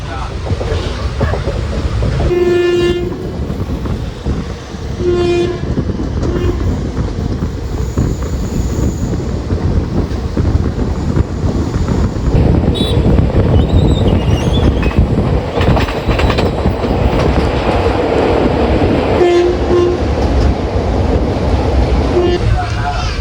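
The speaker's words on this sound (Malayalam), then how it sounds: "MGR ചെന്നൈ സെൻട്രൽ സൂപ്പർ ഫാസ്റ്റിൻ്റെ ആദ്യത്തെ സ്റ്റോപ്പായ പാലക്കാട് ടൗണിലേക്ക് കയറിക്കൊണ്ടിരിക്കുകയാണ്" The MGR Chennai Central Superfast train pulls into Palakkad Town station, giving a loud, continuous rumble with rhythmic clickety-clack of wheels over rail joints and occasional squeals, heard close from on board.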